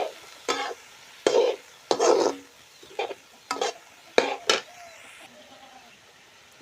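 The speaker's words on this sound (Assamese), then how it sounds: "কলডিলখিনি ভালকৈ লৰাই ল'ব।" Chopped banana flower (kaldil) is stirred in a cooking pan, with a series of short scraping, rustling strokes in an irregular rhythm, separated by quiet pauses, close and clear.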